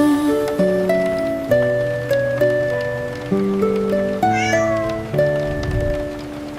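A kitten meows in a gentle melodic pattern over a soft tonal music bed in a children's song about rain, the mewing rising and falling in short phrases that repeat at a steady pace.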